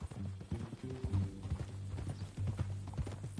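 Horse hooves clip-clopping in Red Dead Redemption 2, a quick close rhythmic trot on hard ground with a low steady hum underneath.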